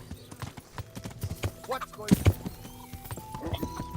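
A horse clip-clops over ground in the video game Kingdom Come Deliverance. The hoofbeats come in an uneven trotting rhythm and sit under a voice talking over the game.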